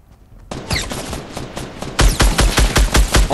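Automatic gunfire in Fortnite Battle Royale, loud and close: a brief quiet opening, then a dense stream of rapid shots that grows heavier and more punchy midway, with no talk.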